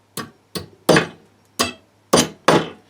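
A hammer drives regular framing nails into deck wood in six sharp, close strikes, unevenly spaced, each a crisp knock with a short ring and no talking.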